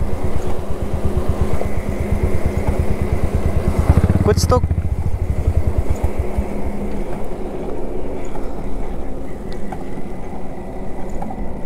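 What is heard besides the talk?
motorcycle rolling in neutral with an odd rotating noise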